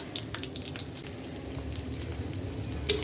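Garlic, cumin and five-spice seeds frying in hot oil for a carambola pickle give a steady close crackle and sizzle, with scattered pops and a sharper spatter near the end.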